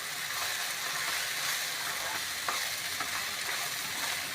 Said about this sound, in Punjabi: ਹਾਂਜੀ ਲਗਾਤਾਰ ਚਲਾਉਂਦੇ ਹੋਏ ਆਪਾਂ ਤੜਕੇ ਨੂੰ ਫਰਾਈ ਹੈ ਗੈਸ ਵੀ ਆਪਾਂ ਨੇ ਮੀਡੀਅਮ ਤੇ ਹੀ ਕਰਿਆ ਹੋਇਆ